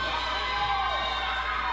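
Arena crowd in Allentown cheering and shouting steadily, a dense continuous roar at wrestling-show volume with no distinct voices standing out.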